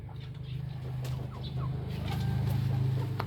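Five-month-old Rhode Island chickens clucking softly in a coop, low murmuring coos and clucks over a steady background hum, close and faint.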